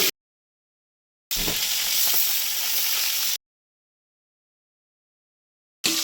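Katla fish pieces fry in oil, a dense hissing sizzle lasting about two seconds, close and fairly loud, framed by silence, with no talking.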